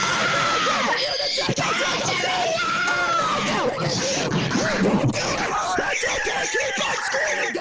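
A person screams loudly and repeatedly in a loud, chaotic scene, with shouting voices and bursts of laughter mixed in throughout.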